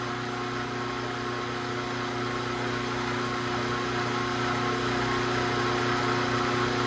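A powered tool strips insulation from copper wire with a steady, loud mechanical whir and motor drone that runs unbroken from start to finish.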